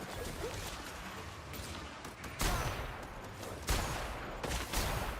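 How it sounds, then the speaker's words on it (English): Enemy gunfire in The Outer Worlds on Supernova difficulty, scattered ranged shots and bursts arriving from a distance over steady game ambience, with a few louder cracks standing out. "they're shooting me from all the way back there"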